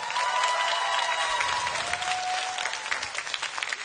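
Concert audience applauding steadily in a hall for a Malaysian TV concert show, dense clapping with a sustained tone ringing over it for the first half.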